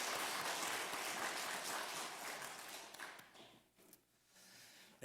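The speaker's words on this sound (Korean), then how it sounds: "다시 한번 축복의 박수 하도록 합니다." Applause from a church congregation at a Sunday service after a choir's hymn, dense and steady at first, then thinning out and fading toward the end.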